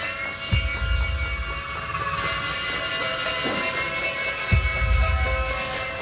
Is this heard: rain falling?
no